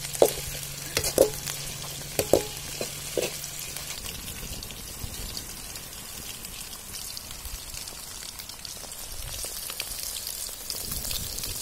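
Chicken pakora frying in hot oil gives a soft, steady sizzle and crackle close by, with a few sharper clicks and taps from utensils in the first few seconds.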